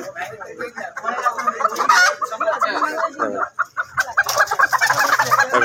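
Desi chickens cluck loudly and busily at a roadside chicken shop. Overlapping calls come close and continuous, with a few louder squawks and honk-like cries mixed in.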